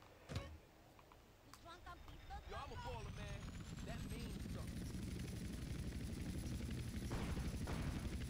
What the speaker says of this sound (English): Time to get back in the helicopter.